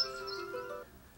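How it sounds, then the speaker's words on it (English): A phone alarm goes off indoors during pot repotting of a pine bonsai, a short bright melodic chime of stepped tones lasting under a second, then fading. "That's my alarm."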